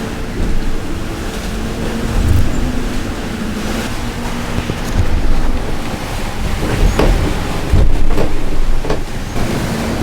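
A sailboat sailing upwind on open water, with a continuous rush of wind buffeting the microphone and waves washing against the hull, loud and steady throughout.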